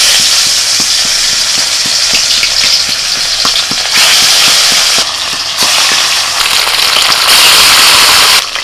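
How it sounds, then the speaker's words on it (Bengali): Fish fry in hot oil in a wok over a clay stove, giving a loud, constant sizzle and crackle with occasional pops throughout. "এবার মাছগুলো ভেজে নেবো।"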